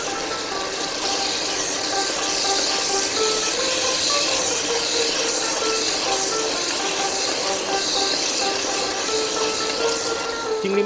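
Prawns fry in hot oil while being stirred, giving a steady, bright sizzle with a crackling hiss and occasional scraping, continuous and close.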